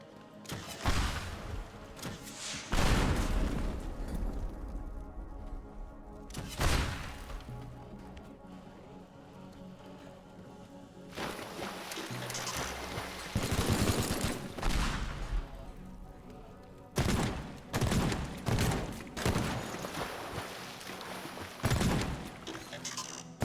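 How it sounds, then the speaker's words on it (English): Shotgun blasts in the video game Teardown ring out in several bursts spread through the stretch, loud broadband booms separated by quieter gaps with mechanical clatter between them. "Shotguns are to be used for rolling robots around."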